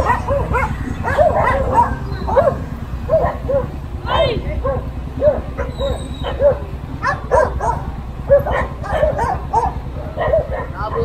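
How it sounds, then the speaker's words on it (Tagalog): Several dogs barking repeatedly and yipping close by in a cluttered yard, a busy overlapping run of barks that lasts throughout with people talking underneath. "Dami pa nilang aso."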